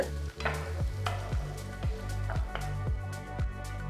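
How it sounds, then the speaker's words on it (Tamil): Steady frying sizzle of chopped onion sautéing in oil, with a spoon scraping and stirring through it in a pan at a regular rhythm, close up, with no voices. "நெக்ஸ்ட் ஒரு பெரிய வெங்காயம் பொடியை நறுக்கினது சேர்க்குறேன். 2 நிமிஷத்துக்கு நல்லா வதக்குங்க."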